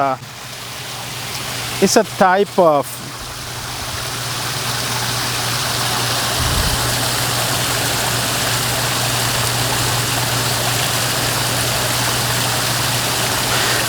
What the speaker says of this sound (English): Just listen to this water here. It's very, very relaxing.